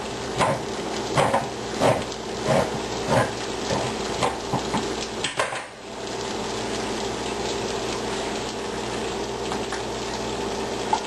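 Tomato sauce is stirred into a sloppy joe mixture in a pot, with soft wet scraping and sloshing strokes in a loose rhythm, close up, over a low background sizzle.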